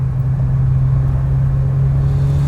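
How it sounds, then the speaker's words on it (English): A Mitsubishi Lancer Evo 10 on its stock exhaust gives a steady, bassy low rumble, loud and close, holding one deep drone throughout with no voices. "I'm actually really surprised with the stock exhaust as well. It's definitely bassy enough."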